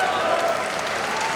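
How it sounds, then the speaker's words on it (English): Wrestling fans applauding at an OTT 9th Anniversary match between Jon Moxley and Trent Seven, a steady wash of clapping from a large crowd filling the arena without any break. "listen to the applause from the fans"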